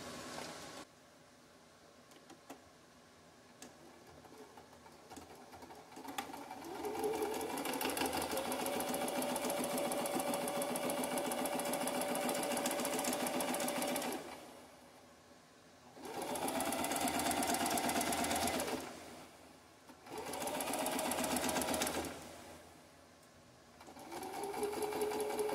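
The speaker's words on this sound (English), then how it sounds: "I stitch it along where my normal seam line is against the edge of my foot" A sewing machine stitches the seam of a Victorian corset mockup, running steadily for several seconds, pausing, then starting up again in two shorter bursts, close and clear.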